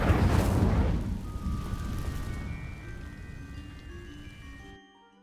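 A roaring burst of magical fire from the Incendio spell igniting dry vines in Hogwarts Legacy, loud at first, then fading into a crackling burn with lingering tones before cutting out.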